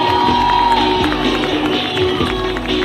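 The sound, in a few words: crowd applause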